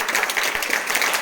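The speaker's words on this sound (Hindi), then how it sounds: "इसी प्रति ताली बजाओ।" Children clapping their hands together during a school morning assembly, a dense, steady burst of many small claps with no clear pauses, moderately loud.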